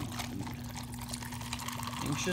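A whole can of pineapple juice pours into a Yeti tumbler, a steady, faint liquid stream with a low pump-like hum beneath, running continuously for a couple of seconds.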